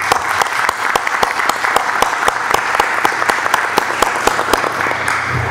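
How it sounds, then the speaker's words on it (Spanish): Strong, steady applause from an audience at a citizen security committee meeting, dense sustained clapping that carries on evenly for over five seconds. "pedir un reconocimiento con un fuerte aplauso"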